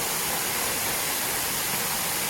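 Phrom Wihan waterfall in Khun Han, Sisaket, pours in a steady, broad rushing hiss, close and unbroken, with no voices over it.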